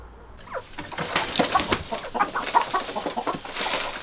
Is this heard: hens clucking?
yes